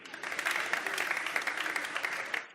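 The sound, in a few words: congregation applauding the word of God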